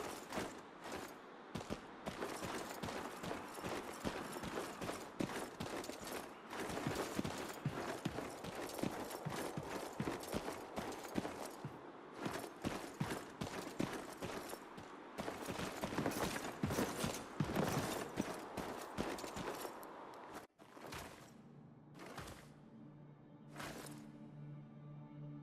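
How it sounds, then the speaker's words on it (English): A horse's hooves clip-clop in a rapid, steady rhythm, close and prominent, in the medieval action game 1348 Ex Voto, then slow to a few separate steps near the end. "Why leave a horse behind?"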